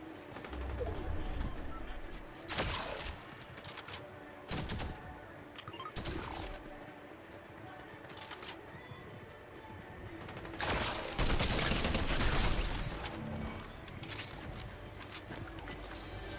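Bots in a video game firing guns in ragged, uneven bursts, with several louder volleys standing out over a steady background of game noise.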